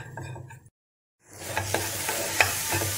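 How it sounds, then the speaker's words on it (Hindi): Mawa filling with sugar and cardamom is stirred in a pan over low to medium flame. A spoon scrapes and taps in short strokes over a soft sizzle, and the sound drops out briefly midway. "सभी चीज़ों को मिक्स कर देंगे"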